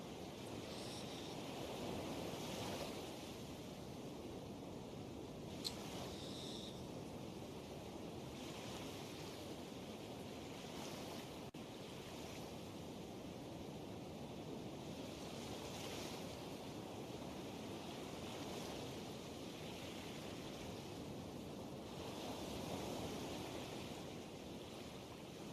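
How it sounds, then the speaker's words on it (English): Ocean waves break on a shore in slow, repeating surges, with a steady wash of surf and some wind noise between the crests; distant and fairly quiet, with no voices. "that would be this sound effect here. Of course, the waves crashing on the shore."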